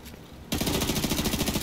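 Rapid SMG gunfire in The Division 2 erupts after a brief quiet moment at night, a fast continuous burst of automatic shots that stays loud and steady to the end.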